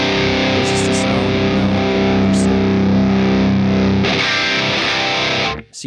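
Electric guitar played through heavy distortion with no boost around 3 kHz, a loud, sustained, dense chord tone ringing for several seconds before it cuts off abruptly at the end.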